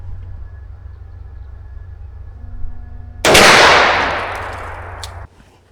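A single loud rifle shot firing Hornady ammunition outdoors, a sharp crack with a long decaying rumble after a quiet stretch of low background hum.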